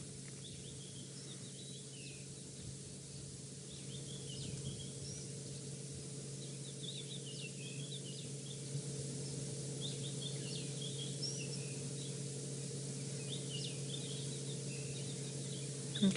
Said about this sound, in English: There's crested francolins calling in the background.